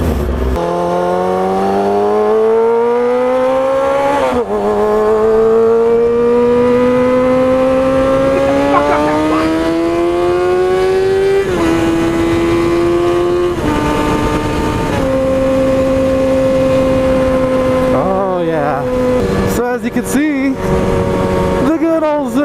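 A motorcycle engine runs loud and close while being ridden, its revs climbing steadily through each gear before dropping at shifts, then blipping and revving sharply near the end.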